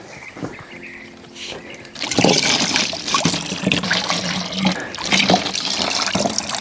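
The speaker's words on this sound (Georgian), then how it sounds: "ესე ამაში ჩავასხავთ. და მე ქვემოთ უმაგრებთ ბოთლს და ის ივსება რა." Water pours steadily through a portable water filter into a bottle outdoors by a forest stream, a loud continuous splashing trickle that starts after a brief quieter stretch.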